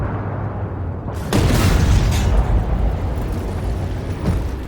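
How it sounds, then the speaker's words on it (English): A 140mm tank gun firing in the video game Armored Warfare: a loud, heavy boom cuts in suddenly and rolls on as a broad, sustained rumble over steady battle noise. "wait until you hear the guns fire. The 140mm gun on this thing."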